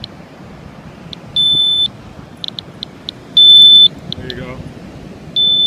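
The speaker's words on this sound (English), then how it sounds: "The alarm's going off." A radiation meter alarm beeps on a beach: short chirps, then three sustained high tones about two seconds apart, over steady wind and surf noise, with a person speaking briefly.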